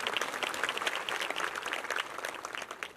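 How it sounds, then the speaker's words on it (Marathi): A crowd of farmers claps at a political event held by minister Girish Mahajan, with dense, irregular applause that is sustained and fairly loud for the whole stretch. "टाळ्या वाजवाल की नाही शेतकरी काही?"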